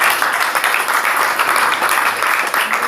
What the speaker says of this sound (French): Applaudissez pour vous les femmes